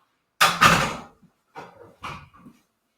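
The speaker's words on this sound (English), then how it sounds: "I'm going to shut my door." An indoor door swings and shuts with a solid thud, followed by a couple of softer knocks and rattles as it settles, close by with no talking over it.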